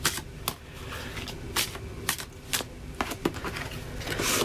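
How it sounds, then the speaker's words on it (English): A tarot card deck being shuffled by hand: repeated papery riffles and sharp card snaps in an irregular rhythm, close and fairly loud, with no talking. "I'm going to do a couple more shuffles here."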